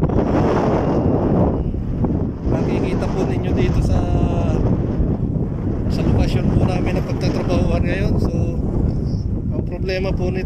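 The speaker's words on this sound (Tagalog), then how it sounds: "Talagang malakas pa ang hangin." Heavy desert wind buffets the microphone without pause, a roaring rush that runs under someone talking throughout.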